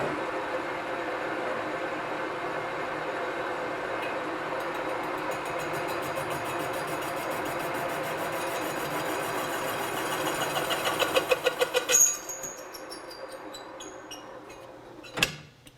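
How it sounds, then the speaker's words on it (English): A machine takes a surface cut around the perimeter of the steel insert of a 1965-1967 Mustang styled steel wheel. It makes a steady mechanical whir that builds toward the end, then stops with a few clanks. "we're going to take a surface cut on the perimeter of that insert"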